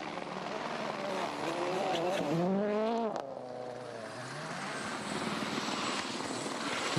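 A rally car stuck nose-first in a ditch on a Swedish WRC stage, its engine revving hard in rising and falling pulls as it tries to reverse, close and loud, with a commentator talking over it.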